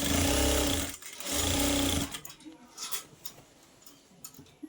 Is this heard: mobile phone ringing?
no